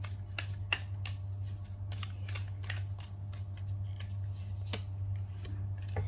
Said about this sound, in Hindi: सबसे पहले मैं आपके हेल्थ के लिए कार्ड निकालती हूँ